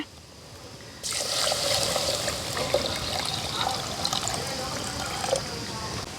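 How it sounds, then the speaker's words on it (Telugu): Water pours steadily into a pan after a quiet first second, a continuous splashing rush close by that carries on to the end. "ఇప్పుడైతే మనం దాంట్లో నీళ్ళు పోసుకోవాల్సి ఉంటుంది"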